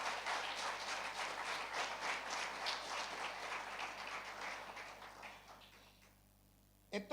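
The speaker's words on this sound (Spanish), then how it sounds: "Denle un fuerte aplauso al Señor" Church congregation applauding, a dense steady wash of many hands clapping for about six seconds, then fading out to near silence with a short thump at the end.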